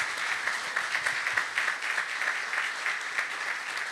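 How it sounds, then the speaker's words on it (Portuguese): Steady audience applause fills a church-style gathering, dense and continuous with many hands clapping together, holding an even level throughout without a break. "Let's clap hands for those souls."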